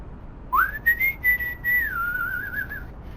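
A person whistles one clear, wavering tune alone for about two and a half seconds, rising at the start and then sliding slightly lower toward the end, close and moderately loud over a faint background hum.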